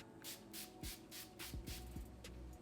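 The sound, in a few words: setting spray mist being sprayed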